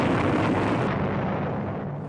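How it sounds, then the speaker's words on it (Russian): A loud, sustained explosion roar fills the whole stretch as a continuous dense rumble that slowly fades without any break. "Взрыв!"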